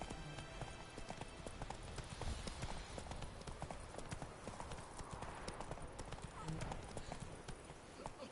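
Roach the horse galloping in a PS4 video game, a steady rapid clip-clop of hooves that runs throughout, close and fairly loud, with faint background sound and occasional voices.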